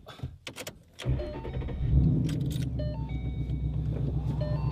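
A few clicks and a starter whir, then a Ford Mustang Boss 302's 5-liter Coyote V8 bursts to life loudly and settles into a deep, rumbling idle.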